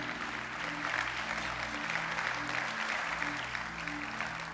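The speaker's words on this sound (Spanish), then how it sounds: "dale un fuerte aplauso a él" Steady applause from a church congregation, a dense even patter of clapping that continues throughout with no pauses.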